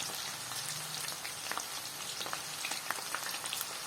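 Chopped onion and tomato frying in hot oil in a pan, giving a continuous crackling sizzle with scattered pops and faint stirring, close and fairly even throughout; no voices.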